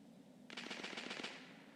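In a shooter video game, a single rapid automatic burst of about eight shots fires after a quiet half-second lull, crisp and close, then fades to a faint background.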